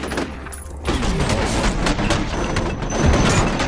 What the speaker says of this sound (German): Ich habe wenigstens wieder dieses bessere Maschinengewehr, was ein bisschen mehr Betrieb macht.